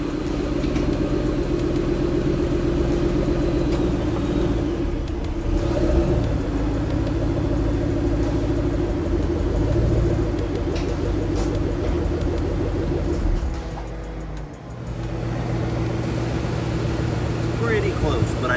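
A Ford Mustang rolling through a driveway with a license plate bracket fitted, its engine rumbling low and steady for the whole stretch, with a brief dip in level near the end.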